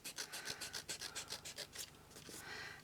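Paper being trimmed for a handmade journal, a quick run of about a dozen soft, rhythmic rasping strokes close by, fading into a lighter rustle at the end, with no speech.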